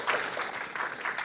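Brief applause from an audience at a Seoul ordinance policy forum, thanking a presenter: a modest crowd clapping at moderate distance, fairly soft and uneven, over about a second.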